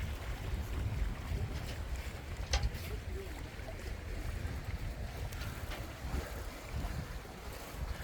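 Sailboat under sail at about 6 knots after leaving Candelaros, a steady rush of wind and water against the hull with heavy low wind buffeting and a few faint knocks.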